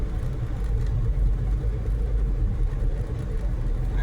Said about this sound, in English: he's plowing the road, throwing some sand, some salt, keeping the rest of us safe